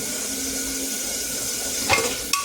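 Onions sautéing in a pan for a curd-based curry, a steady close sizzle with a brief stir or scrape near the end.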